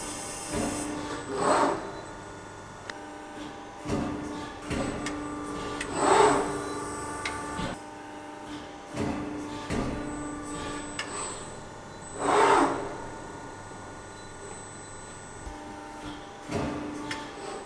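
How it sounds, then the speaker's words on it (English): Press brake beam driven up and down under a Delem 69T controller, with recurring whirring hydraulic surges and mechanical clunks spaced a few seconds apart amid a steady shop hum, no talking. "We can show it in a moment, actually bringing the beam up and down."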